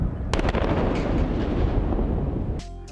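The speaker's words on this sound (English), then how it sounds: "If you didn't know, rockets can blow up." A large rocket explodes in one loud, sustained blast of deep roaring, rumbling and crackling that holds for about two and a half seconds, then drops off abruptly.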